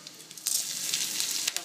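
Ginger, black pepper and cumin fry in hot oil with asafoetida for pongal, giving a steady close hiss with scattered sharp crackles and pops throughout.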